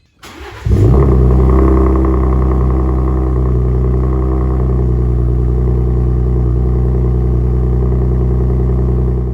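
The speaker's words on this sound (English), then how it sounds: "First cold start with the AWE switch path." Gen 3 Ford Raptor 3.5L fitted with an AWE SwitchPath exhaust fires up from cold, a brief crank catching into a loud, steady, deep high idle that holds close and unbroken with no talk.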